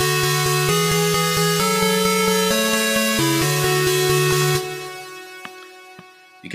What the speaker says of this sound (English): And these two synths together sounds like this.